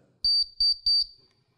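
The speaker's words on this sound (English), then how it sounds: "I've made myself a little tool called a buzzer." A loud, shrill 9-volt battery-powered buzzer on a breadboard circuit sounds in three short bursts, each with a quick double pulse, followed by a brief faint ringing tail.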